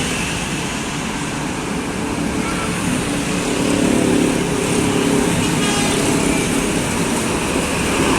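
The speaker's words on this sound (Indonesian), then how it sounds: "Dari arah Jombang terpantau bus pariwisata Lur." Tour buses travelling in a convoy from the direction of Jombang pass along a road, a steady broadband roar of engines and tyres that swells slightly midway and holds at a constant loudness throughout.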